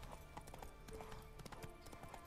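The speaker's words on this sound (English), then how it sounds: "I have a really hard time controlling this horse." Horse hooves clip-clop steadily on a road in The Witcher 3 video game, a continuous mid-level trot with an occasional faint whinny over a low game soundscape.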